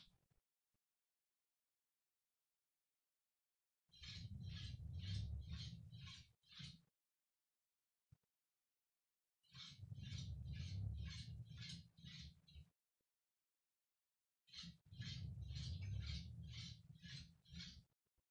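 A Lego Powered Up owl model triggered by a color and distance sensor plays its owl noise three times, each a rhythmic hooting burst of several pulses lasting about three seconds, separated by silence, with faint motor clicks.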